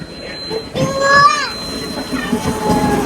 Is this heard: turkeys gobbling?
no